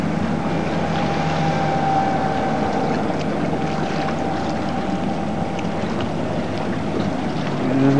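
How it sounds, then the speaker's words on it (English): A motorboat passes on a lake, giving a steady engine drone with a faint tonal whine over wind and water noise. It grows slightly louder at the very end. "And there goes the boat."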